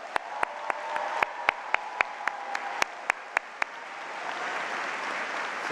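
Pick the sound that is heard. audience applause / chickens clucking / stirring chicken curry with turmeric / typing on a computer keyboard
audience applause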